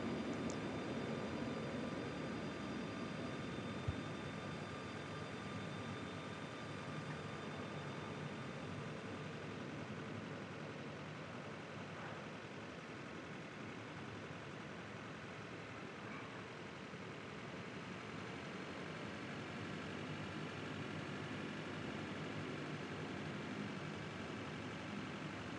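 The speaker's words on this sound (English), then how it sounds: "Let's watch those engines spool down." Airliner jet engines spool down in the MS Flight Simulator 2020 game as a steady, faint, broad drone that runs unbroken for about twenty-five seconds with no talk.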